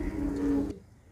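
Pigeons in their loft give a brief, close coo with a low, steady tone that cuts off abruptly.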